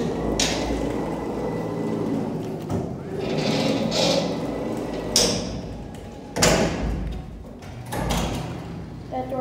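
Freight elevator door at a shopping mall with a malfunctioning door stop slides and rumbles, then gives a few sharp bangs and clunks against a steady mechanical hum.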